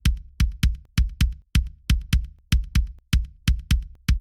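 Drum Forge maple kick drum sample through a D6 mic, soloed: about eighteen punchy, scooped kick hits in a quick uneven double-pulse pattern, each with a sharp click and a short boomy tail, loud and alone.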